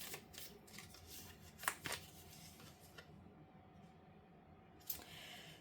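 Oracle cards are shuffled by hand, producing soft, quiet riffling and sliding with a few sharper snaps, close by and with no talking.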